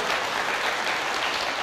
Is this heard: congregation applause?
yes